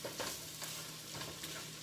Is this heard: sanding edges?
no